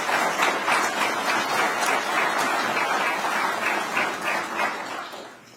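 An audience applauds steadily at a governor's broadband funding announcement in Alabama, a dense wash of clapping sustained throughout before easing off at the end.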